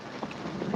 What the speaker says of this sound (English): Seriously, it's raining.